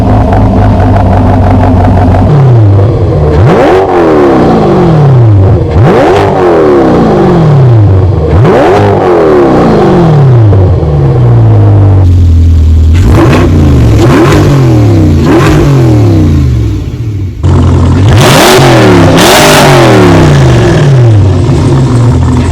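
A 2024 Chevrolet Corvette C8 Z51 with an AWE exhaust and black chrome tips revs repeatedly, loud and close, each rise in pitch followed by a fall, with a final burst of hard revving toward the end.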